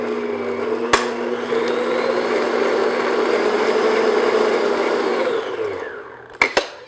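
A kitchen mixer beats an egg into pumpkin cranberry bread batter with a steady, close, loud whir that runs for about five seconds, then winds down and stops with a couple of sharp knocks at the end.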